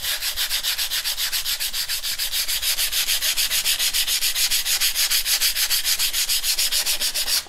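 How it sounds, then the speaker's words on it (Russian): Steady rhythmic scratching of sandpaper rubbed back and forth by hand over gesso on an icon panel, close up, a quick even stroke pattern with no talking. "И начинаете потихонечку шлифовать."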